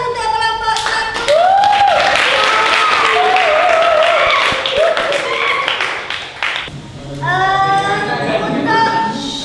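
A class of students applauds a presenting group in an Indonesian school lesson, with sustained clapping that runs for several seconds under a voice speaking over it and fades briefly before picking up again.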